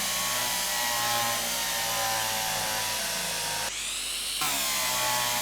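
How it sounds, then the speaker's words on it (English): A power drill runs steadily, loud and close, drilling holes for locomotive lights, with a short pause in pitch near the end before the motor picks up again. "Right, let's drill these."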